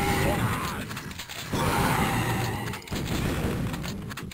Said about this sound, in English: you go to this secret and get the riot gun, a four-barreled shotgun